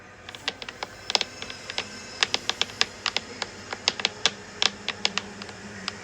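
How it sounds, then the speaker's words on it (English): Sharp, deliberate tapping repeats at an irregular but steady pace, close and crisp like fingertips or a small object striking a hard surface, continuing alone without voices. "the tapping noise began."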